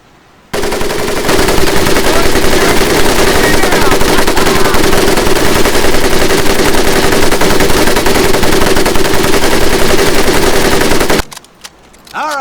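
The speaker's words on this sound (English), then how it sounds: "M1919A4 30 caliber machine gun." An M1919A4 .30 caliber machine gun fires in a video game, one loud, continuous, rapid burst lasting about ten seconds before cutting off abruptly.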